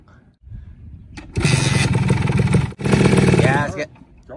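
A Honda ATC 250R two-stroke three-wheeler engine revs hard and close, in two long buzzing bursts split by a brief drop, after a quiet start.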